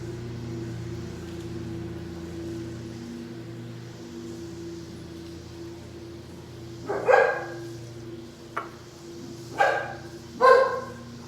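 Several sharp dog barks burst out in a short cluster toward the end, set against a steady indoor hum, with no talking while the dogs react to landscapers outside.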